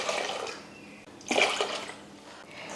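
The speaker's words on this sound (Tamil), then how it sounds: "இப்போ தண்ணி ஊற்றிக்கலாம்." Water poured into soaked pearl millet for kambu koozh, a broad liquid splash that thins briefly, then swells louder in a second pour before tapering off, with no talk.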